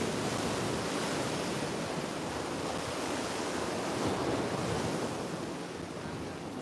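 Ocean surf at Corona del Mar beach rolls in as a continuous broadband wash, steady and fairly soft, with a little wind on the microphone and no voices.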